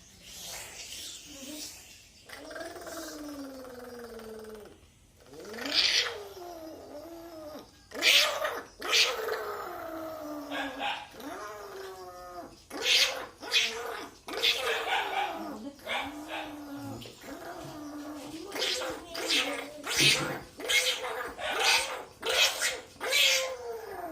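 A person imitates two cats fighting, with drawn-out yowls, wailing meows and sharp hissing spats, rising and falling in a long, close, agitated exchange.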